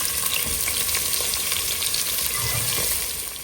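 Onion fries in a pan while cooking mushroom biryani with green chillies, giving a loud, dense, continuous sizzle that stays close and even the whole time before easing slightly at the end.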